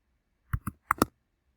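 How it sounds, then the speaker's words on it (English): Four quick keyboard key clicks in a short burst, close and fairly quiet, with silence around them. "So I'm just typing here."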